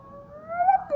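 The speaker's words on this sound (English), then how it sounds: "Look, this little cat." A small pet cat meows once near the microphone, a rising, drawn-out call that swells and fades at the end over a quiet room.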